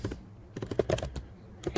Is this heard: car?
no